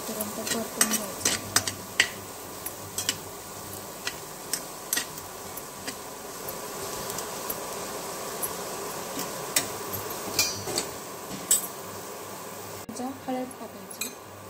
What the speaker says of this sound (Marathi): हे छान सोनेरी कलर येईपर्यंत परतून घ्यायचं